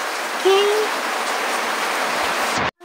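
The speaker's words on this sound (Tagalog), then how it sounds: "lumalakas na naman yung ulan here" Heavy rain falls outside in a steady, dense hiss, loud and continuous, with no pause until it cuts off abruptly near the end.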